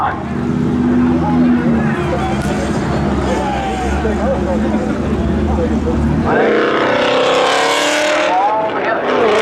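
Cars drag racing at New Smyrna Speedway spectator drags, a loud, close engine roar that surges into a rising, high-revving pull partway through, with a commentator talking over it.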